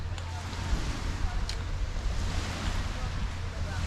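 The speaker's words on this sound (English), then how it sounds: "This is the beach." Continuous wash of surf breaking on a New England beach and wind noise, broadband and steady throughout, with no distinct voices.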